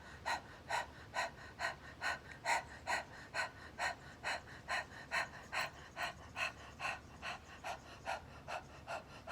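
Forceful rhythmic breathing from a voice and energy breathing exercise, sharp panting breaths repeat at a steady syncopated pace, roughly two per second, close and alone without talk.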